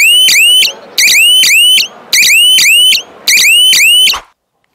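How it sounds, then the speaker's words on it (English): Alarm siren of a solar electric fencing machine, sounding in four loud, close bursts of rapid rising electronic chirps with brief pauses between, ending abruptly. "then a siren will go off and that will sound like this."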